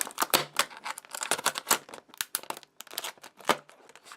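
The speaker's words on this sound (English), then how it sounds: "let's get these scissors and see if we can get this package open" Scissors cut and snip open the plastic packaging of a Lidl Livarno Lux torch with built-in power bank, giving a close, irregular run of crisp snips and crinkling plastic with no voices.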